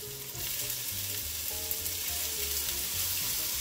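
Thinly sliced onion and lardons browning in a pan among the cooking juices of a pheasant for a fricassée with apples and cider, making a soft, even sizzle with gentle stirring and no voices.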